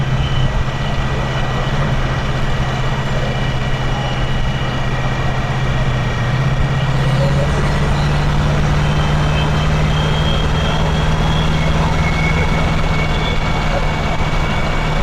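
Vehicle cruising at about 65 to 70 mph after a driveline shake fix, a loud steady road and engine drone with a low tone that climbs slightly partway through.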